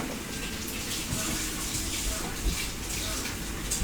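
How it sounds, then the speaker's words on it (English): Bubbling, gushing liquid in a large green vat in a fantasy dungeon, a continuous watery churn with a few louder bursts, with a voice faintly present underneath. "there's a large green vat bubbling"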